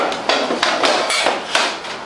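A thin, bent stainless steel cover sliding back onto an ozone generator box gives a series of bright metallic scrapes and clanks in a steady rhythm, close and fairly loud, with no voices.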